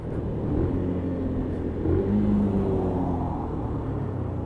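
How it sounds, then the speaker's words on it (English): Benelli BN125 motorcycle engine running on E5 fuel with a new spark plug and coil, a steady close drone that swells briefly as it revs, alone without speech. "new spark plug in the bike, new coil on the bike is running good"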